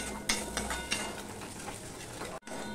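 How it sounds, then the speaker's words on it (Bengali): A spice paste with a little water and salt is stirred and fried in a pan for a vegetarian Bengali spiny gourd dish, giving a steady close sizzle broken by a few soft scraping stirs. "দিয়ে মশলাটাকে আমি কষিয়ে নেব"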